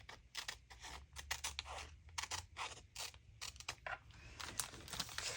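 Scissors snip through craft paper in quick, uneven bursts of close, faint crisp cuts, with soft rustling of the paper between strokes.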